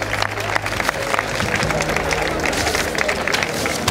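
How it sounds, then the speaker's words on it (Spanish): Crowd applause for the elite category champions at a Spanish orienteering championship awards ceremony in Guadix, steady clapping with background crowd murmur and voices, fairly loud throughout. "Un fuerte aplauso para los campeones y campeonas"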